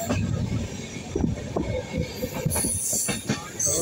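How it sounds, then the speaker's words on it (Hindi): Passenger train on the Gandhidham–Kamakhya route rolling through a curve, rumbling wheels and irregular clacks over the rails with thin high wheel squeals rising toward the end. "इस तरह से ट्रेन मुड़ रही है।"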